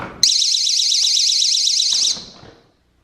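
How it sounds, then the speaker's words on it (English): An exterior door alarm on a door leading to a pool sounds a loud, steady electronic warble for about two seconds, then cuts off abruptly, leaving quiet room noise. "some jurisdictions require an alarm on any exterior door that leads to the pool"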